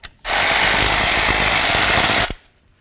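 Single continuous burst of a power tool, about two seconds long, loosening the ABS wire bolt at the front wheel hub of a 1999-2007 Ford F250, close and loud, with a short rattling tail.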